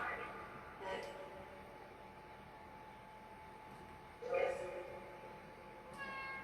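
A cat gives a few short meows, faint and somewhat distant against a quiet room hum, spaced out over several seconds.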